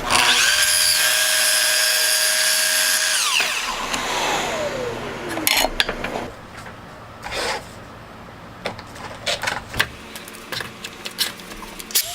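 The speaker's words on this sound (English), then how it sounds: "on my sliding miter saw, I cut it to the appropriate length" Sliding miter saw cutting a wood back panel to length: the motor whines loudly, spins down as the blade slows, then clattering handling knocks and clicks follow.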